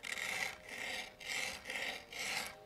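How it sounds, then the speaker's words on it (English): A screwdriver scrapes back and forth across scooter grip tape in five rhythmic, rasping strokes, close and clear with short pauses between them. "And this is where the scraping comes involved. This is where you use your screwdriver."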